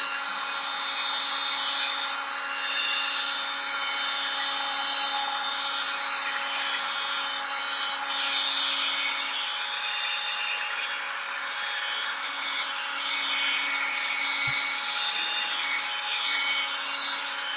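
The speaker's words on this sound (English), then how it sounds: "it takes a minute for the heat gun to warm up" A heat gun runs while paint is stripped from a sheet, giving a loud, steady, broadband blowing hiss with a constant whine that continues unbroken and alone throughout.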